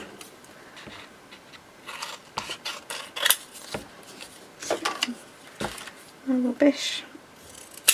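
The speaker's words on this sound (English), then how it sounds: "let's cut them two out" Scissors snip out paper pieces for autumn ephemera crafting in a series of short, irregular cuts and rustles, close by, with a brief spoken word in the middle.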